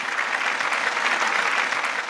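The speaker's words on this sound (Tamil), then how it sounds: "நல்ல கைத்தட்டல் தாங்க அவருடைய அப்பாவுக்கு" Steady, dense clapping from an audience at an awards ceremony, applauding a guest's father, sustained and even throughout with no voices over it.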